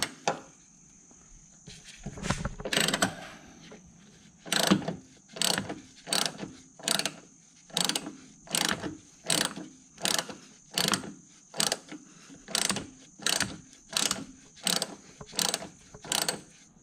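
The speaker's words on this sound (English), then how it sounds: "Some of the strut bolts are pretty rusted, so I'm going to go ahead and loosen them up before I lift up the vehicle." A ratchet works loose rusted front strut bolts on a BMW, clicking in short rapid bursts repeated at a steady rhythm, around eighteen strokes close to the microphone, with faint background between them.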